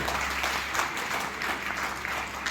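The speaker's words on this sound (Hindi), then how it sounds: "हमारे मिस्टर शंभू कुमार कुशवाहा जी के लिए एक बार धमाकेदार ताली हो जाए पहले तो" An audience breaks into brief, vigorous clapping for Mr. Shambhu Kumar Kushwaha, a thick, even burst of many hands that fills the whole couple of seconds at a fairly close, full level.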